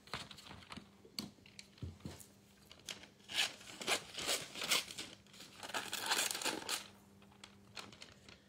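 Scissors snip through paper to cut out a vintage-style image printed on vellum, with a run of quiet, close crinkling and cutting sounds that grow busier midway and carry no talk.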